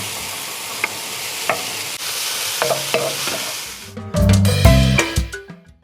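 Rice stir-fried with mushrooms in a pan: steady sizzling and frying with several sharp spatula scrapes against the pan, then louder clattering stirring and tossing near the end, close and alone with no talk.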